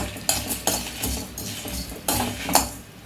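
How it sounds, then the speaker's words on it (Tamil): Coriander seeds, cumin, dried red chillies and peppercorns dry-roasting in a pan for curry leaf kuzhambu, with repeated close scraping stirs and metal spoon clinks against the pan in short bursts. "மல்லி, ஜீரகம், வரமிளகா, மிளகு, இது 4ஐயும் லேசாக வறுவலை வறுத்துட்டு"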